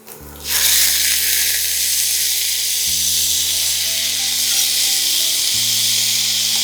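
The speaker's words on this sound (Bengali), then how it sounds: "তাহলে মানে এটা ভালো করে ভাজতে হবে" Armenian khichuri frying in a pan, a loud continuous sizzle and hiss that rises sharply at the start and holds steady with a faint tonal hum underneath.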